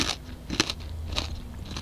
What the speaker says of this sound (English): the best bite is when you get a little bit of that pork crackling